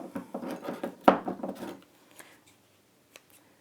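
Scissors trim fabric in dressmaking, a quick run of close crisp snips for about two seconds, followed by a few faint isolated clicks, with no voices.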